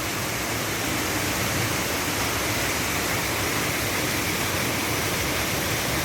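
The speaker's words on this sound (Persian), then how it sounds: "اینم یه آبشار" A forest waterfall, one of a chain of seven cascading into a river, roars in a steady, dense rush of white water that stays loud and even throughout, with no voices.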